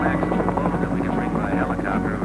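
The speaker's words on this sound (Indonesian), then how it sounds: "Beban paling berat yang dapat diangkut helikopter ialah 800 kg." A helicopter able to lift 800 kg flies over the icy mountain peaks of Papua near the Freeport mine, its steady, loud rotor drone filling the whole stretch without a break.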